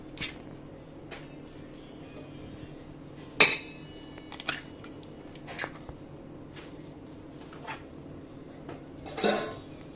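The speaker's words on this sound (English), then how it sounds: "Start with breaking the eggs" Eggs cracked one after another against a bowl rim for a multigrain chocolate cake batter, a few sharp isolated knocks and clinks spaced out over quiet kitchen background.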